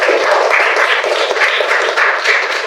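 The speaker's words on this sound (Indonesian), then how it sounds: "tepuk tangan untuk teman kalian yang bersedia maju" A classroom of students applauds a volunteering classmate, with dense, steady clapping from many hands held loud and close for a few seconds and no talking.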